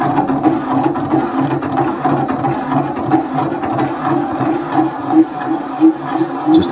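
A powered lathe slotter cutting slowly at reduced speed across a weld boundary, a loud, steady mechanical chatter and grinding hum with a repetitive rhythmic pulse, close up and continuous throughout.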